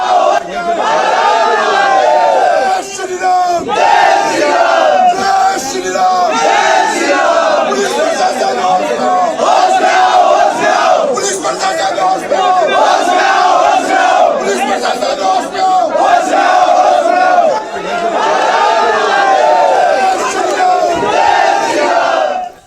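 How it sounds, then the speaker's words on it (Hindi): A large protest crowd outdoors in Bengal chants Jai Shri Ram slogans, loud massed voices shouting in rhythmic waves with constant crowd noise throughout. "लोग बाहर खड़े होकर जय श्री राम के नारे लगा रहे थे"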